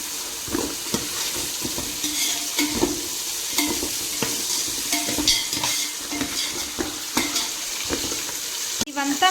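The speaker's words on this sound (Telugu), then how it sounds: "కొత్తిమీర పుదీనా రెండు వేసుకొని ఫ్రై చేసుకోండి." Coriander and mint leaves fry in a pan for chicken biryani with a continuous close sizzle, while a utensil stirs and scrapes the pan in irregular strokes, ending in a sharp clatter.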